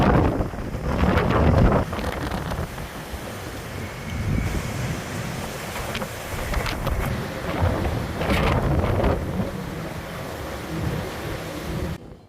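Strong wind from a storm with hurricane-force winds and rain in South Florida roars and buffets the microphone in surging gusts, with a rumbling, surf-like wash underneath throughout.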